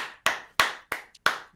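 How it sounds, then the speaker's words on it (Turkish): Sharp hand claps ring out one at a time at an uneven pace, five close and crisp strikes with a faint tap between them and no voices. "Alkışlıyorum ben. Rakiplerimi alkışlıyorum."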